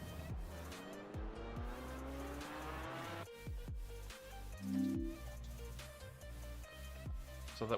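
A race car in the iRacing sim game revs hard through shifting engine notes, then drops off and picks up again, with a brief tire squeal midway and no one talking.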